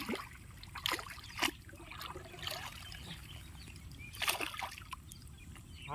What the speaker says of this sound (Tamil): இப்போ மடையை திறக்கிறாங்க பாருங்க.